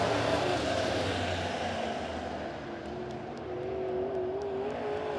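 USRA A-Modified race cars roaring around the dirt oval at Springfield Raceway, a distant, fairly quiet wash of engine noise with one rising whine as a car accelerates past.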